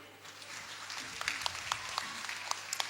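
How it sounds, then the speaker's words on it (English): Applause at a school function, a soft, fairly distant wash of clapping with a few sharper individual claps standing out near the end. "Big round of applause for all of them."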